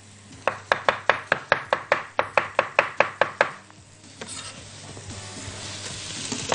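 Artichoke and mushrooms stirred in a pan for soup, a fast run of about fifteen sharp scraping knocks of a utensil against the pan, then a softer sizzle with a few scattered clicks.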